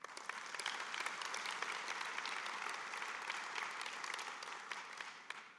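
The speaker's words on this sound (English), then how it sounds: "let's give them one more round of applause to all of them" A large conference audience applauds award winners at the OHBM 2025 closing ceremony, steady dense clapping filling the room without pause.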